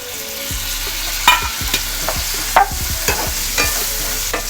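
Bell pepper and tomato fry in a pan for an egg bhurji, a loud close sizzle running throughout while a spatula scrapes and clacks against the pan in repeated strokes.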